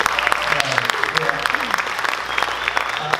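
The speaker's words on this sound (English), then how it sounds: "Can we get another round of applause for them?" Audience applause at a conference talk, steady clapping from a crowd lasting a few seconds, with some voice or murmur mixed underneath.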